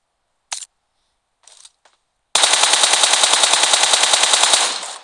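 Gunfire in the mobile battle-royale game PUBG Mobile: a few brief isolated shots, then a loud sustained automatic burst of rapid, evenly spaced rounds lasting about two and a half seconds before cutting off.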